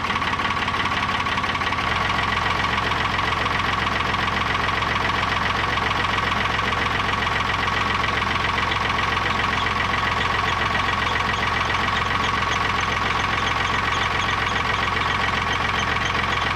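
An old Ford engine idling while its original Motorola alternator and voltage regulator are tested: a loud, steady rumble with a rapid, even knocking pulse that holds throughout, with no talking.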